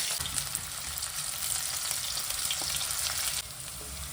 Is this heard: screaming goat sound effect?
no